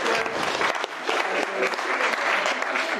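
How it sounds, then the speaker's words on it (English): Guests at a wedding ceremony break into a steady round of clapping, close and dense, holding at an even level for about three seconds. "Big round of applause."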